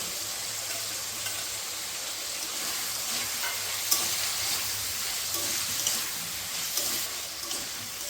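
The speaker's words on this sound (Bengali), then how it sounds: "আমাদের টমেটো, পেঁয়াজ, ক্যাপসিকামগুলো যত সময় ভাজা হবে" Continuous loud sizzling of tomatoes, onions and capsicum frying in a pan, with occasional light stirring clicks and no talking.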